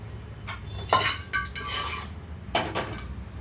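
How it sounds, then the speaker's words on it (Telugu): A spoon scrapes and clinks against a metal bowl several times, scooping ground ivy gourd and peanut chutney, short irregular sounds close by with brief pauses between. "ఇదంతా ఒక బౌల్లోకి తీసేసుకుంటున్నాను ఇప్పుడు"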